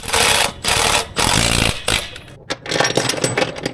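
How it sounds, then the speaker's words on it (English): A power tool bolts a spare tyre onto a wheel of a Landcruiser 79 ute. Loud, close bursts of whirring and hammering come in three long runs, then a rattling, uneven stretch. "Now we'll bolt this to the wheel."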